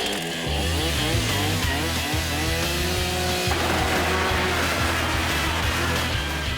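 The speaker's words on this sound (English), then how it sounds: "If Jamie can start the chainsaw." A chainsaw running loud and close, its engine droning with a rising rev partway through, then settling into a rough, buzzing cut.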